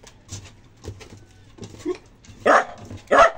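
A dog gives two loud, sharp barks near the end, preceded by softer yips and whimpers, close by.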